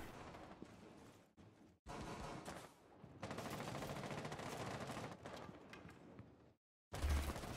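Rapid automatic gunfire in Rainbow Six Siege, Year 6 Season 2 North Star on PS5, comes in dense bursts with brief silent gaps, close and loud, and a final sharp burst at the end.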